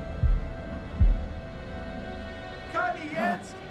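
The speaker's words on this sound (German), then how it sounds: "Jetzt Herzschlag, Herzschlag" Heartbeat effect in a video game, two soft low thumps early on at a slow pace, followed by a few seconds of quiet hum and then short tonal game sounds, with no talk.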